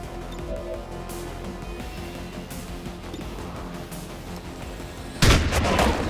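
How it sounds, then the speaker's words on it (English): A sharp, loud gunshot bursts late, followed by a crackling tail, in the turn-based strategy game XCOM 2, after a stretch of low ambient game sound. "We just need to shoot him."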